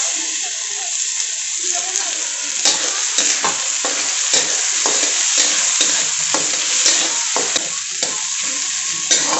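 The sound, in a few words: onion and tomato frying on full gas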